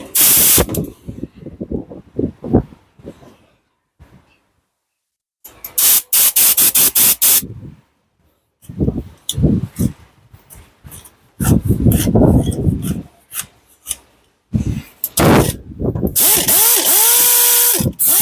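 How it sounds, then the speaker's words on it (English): An air grinder fitted with a flap disc grinds across bricks in loud, harsh bursts, starting and stopping repeatedly with short quiet gaps between runs. "Right, so the next gadget is the air grinder. I'm just going to use it now with the flapper disc on"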